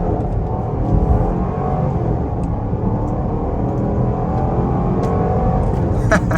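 A 2023 Jeep Grand Cherokee Summit with a HEMI engine accelerating on a highway, a loud sustained engine roar and road rumble from inside the cabin, steady throughout.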